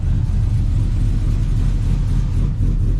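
An S10 pickup truck with a swapped LS V8 engine idling while warming up outdoors, a loud, steady low rumble with slight pulsing throughout and no talking.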